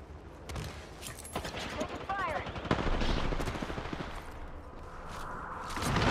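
Rapid automatic gunfire crackles in an online shooter game, with bursts of shots and scattered single cracks over background noise while game voices call out.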